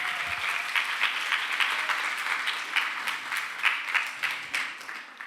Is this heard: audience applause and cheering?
yes